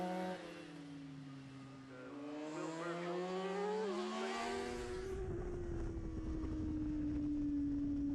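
Honda and Kawasaki racing motorcycles scream past on the Aberdare Park road circuit, engines rising and falling in pitch as they pass close and loud, one after the other.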